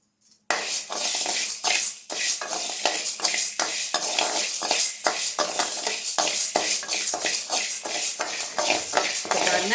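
White urad dal is roasted and stirred in a metal kadai, a dense run of scraping, rattling strokes from a spatula against the pan, repeated rhythmically and close up with no voices.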